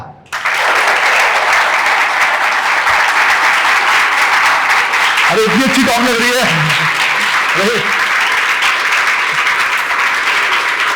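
A classroom of students claps together in a steady, loud burst that lasts the whole time, while a voice speaks briefly over the applause.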